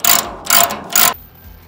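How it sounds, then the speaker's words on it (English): A welded-on chain ratchets on the back door of a concrete and dirt dumpster. Three sharp, rattling ratchet bursts come in quick, even succession, loud and close, then a quiet tail. "Don't worry about the chain. It's just ratchets."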